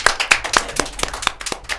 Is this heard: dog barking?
no